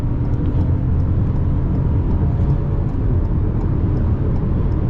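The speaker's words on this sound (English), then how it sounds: "Now, we're gonna give it a little gas." The 3-cylinder turbo engine of a Ford Bronco Sport Big Bend pulls under acceleration from the cabin on a highway, a loud, steady low rumble blended with road and wind roar.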